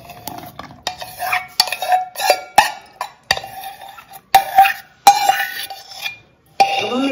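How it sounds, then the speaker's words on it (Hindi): Sweetened condensed milk mixture, cooled, being stirred into whipped cream for homemade guava ice cream, with a spoon scraping and clinking against a bowl in short, irregular strokes, close and moderately loud. "इसको इस व्हिप क्रीम में मिक्स कर देते हैं"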